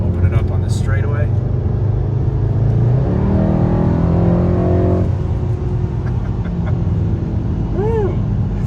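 A 2019 Mercedes-AMG E63S Wagon accelerates hard down a straightaway, its engine note rising steadily and loud from inside the cabin, with a voice briefly speaking over it.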